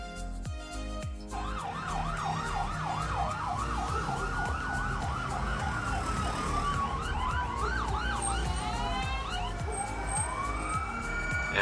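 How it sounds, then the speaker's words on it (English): Several emergency sirens wail and yelp at once, overlapping and sweeping up and down in pitch over a busy street rumble. "even more sirens"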